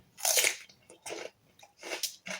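Cucumber dipped in Marmite being bitten and chewed, giving four or five loud, close, wet crunches with short gaps between them and no talking.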